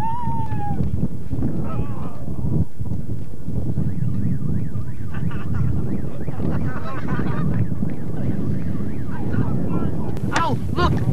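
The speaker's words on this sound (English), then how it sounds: "go chase the geese, Mike." Geese honk repeatedly in a noisy flock nearby, their calls overlapping against heavy wind rumble buffeting the microphone.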